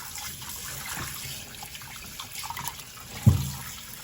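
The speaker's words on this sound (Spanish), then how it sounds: "Ahora lo enjuago con agua fría" Cold tap water running over beef oxtail in a kitchen sink as it is rinsed, a steady soft hiss and trickle with a small splash near the end, no talk.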